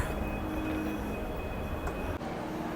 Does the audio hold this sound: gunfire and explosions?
no